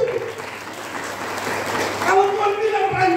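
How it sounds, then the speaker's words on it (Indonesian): A church congregation applauds during a Christmas sermon, a steady wash of clapping across the whole clip, with a preacher's voice rising over it near the end. "Kasih tepuk tangan."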